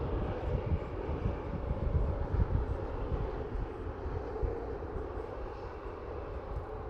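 A steady low jet airliner roar at Toronto airport, a rumbling engine drone with broad hiss, moderately distant and fairly constant as the plane comes in to land, no talking.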